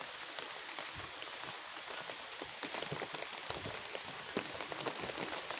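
Rain falling steadily on an outdoor dragon fruit garden, a soft continuous patter of drops on leaves and surfaces, faint and even throughout.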